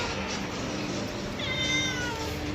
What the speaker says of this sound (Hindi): आज घर पे बिल्ली आई है बहुत दिनों के बाद